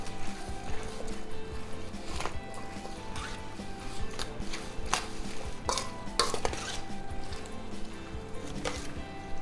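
Chopped Israeli salad ingredients seasoned with cumin are tossed together in a bowl, giving a continuous wet rustling churn with frequent clatters and knocks of the utensil against the dish.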